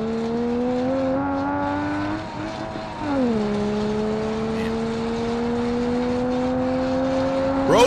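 Game car engine in BeamNG.drive droning steadily with strong harmonic tones, dipping briefly as the driver shifts gear around the three-second mark, then settling back to a constant, loud, close running note.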